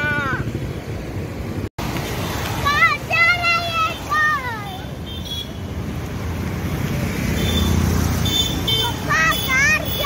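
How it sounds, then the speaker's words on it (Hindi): A car passing on a road near a bushy roadside spot, a steady rumble of traffic swelling toward the end, with children and adults talking over it and a horn-like tone. "कार जा रही है।"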